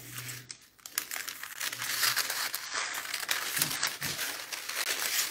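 Paper scissors cutting out paper pattern pieces for a scrunchie, giving steady close crinkling and snipping rustle that runs on continuously for several seconds with no talk.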